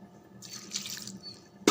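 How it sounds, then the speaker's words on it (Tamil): Two tumblers of water poured over chopped banana flower in a pot, a soft steady splashing stream that builds and then ends with a brief louder clatter. "2 டம்ளர் தண்ணி மட்டும் விடுங்க."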